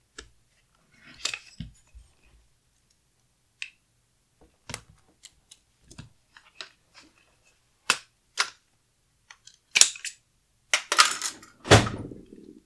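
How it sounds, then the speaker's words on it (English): Takedown pins popped on an LWRCI REPR MKII AR-10 rifle, with sharp metallic clicks and snaps scattered at irregular intervals and a cluster of louder clacks toward the end. "you're going to pop your front and rear takedown pins."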